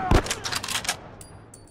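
A single loud gunshot from The Last of Us video game, followed by a short rattling echo and faint metallic pings as it fades.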